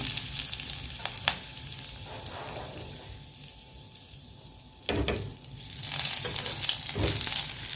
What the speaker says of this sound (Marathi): आता वांगी तेलात दोन मिनिट भाजून घ्यायचं